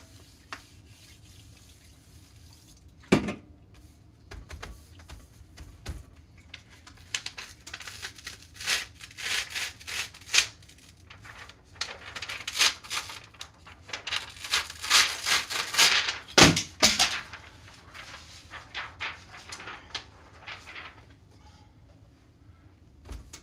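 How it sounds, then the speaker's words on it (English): A heavy metal cooling stone is rubbed against a Pepsi can, making irregular scraping and rubbing strokes that build in bursts, with a few sharp knocks from metal on aluminium, fairly close and quiet. "It's like a big piece of metal that you rub on it to cool it down."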